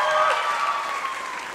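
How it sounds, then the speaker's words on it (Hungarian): A school show audience breaks into steady, dense applause to welcome a young singer to the stage. It stays loud and even throughout, with faint tonal ringing from the hall's sound system underneath. "köszöntsük őt nagy tapsal!"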